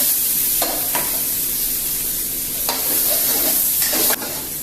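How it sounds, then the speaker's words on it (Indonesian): Sliced garlic and shallots frying in a pan, a loud steady sizzle close up, broken by a few brief scraping stirs before it drops a little quieter near the end. "Setelah itu langsung aja kita masukin bawang putih dan bawang merahnya ya"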